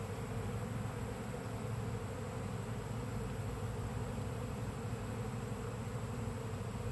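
A large honeybee swarm, several swarms merging near a five-frame box, hums in a dense, continuous drone that stays loud and even throughout, with no voices.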